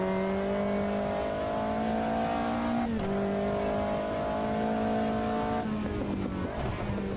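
A race car engine in the rFactor 2 racing game, lapping Virginia International Raceway (VIR), holds a loud, steady high-revving drone with brief dips at two gear shifts and faint tire squeal.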